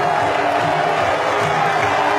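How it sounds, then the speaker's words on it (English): A cricket crowd at a Bangladesh versus Australia match roaring after a winning shot, a loud sustained wash of cheering with no break. "the crowd are going nuts here"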